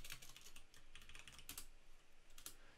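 Quiet, rapid typing on a computer keyboard while writing Java code, with clustered keystrokes and short pauses between bursts, close but faint.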